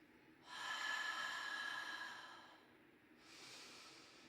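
Breathing during a Pilates exercise: a long, steady exhale of roughly two seconds, a short pause, then a softer inhale starting near the end, close and alone with no talking.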